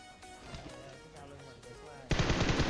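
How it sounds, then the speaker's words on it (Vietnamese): A sharp burst of gunfire from the shooter game PUBG Mobile on the Erangel map breaks in loudly near the end after a stretch of quieter, busier game sounds. "Súng bắn luôn."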